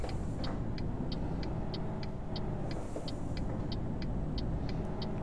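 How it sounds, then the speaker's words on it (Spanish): A truck in Euro Truck Simulator 2 drones on a steady low engine rumble, with a regular high ticking repeating over it, and no clear gear changes. "Punta tacón bajando marchas."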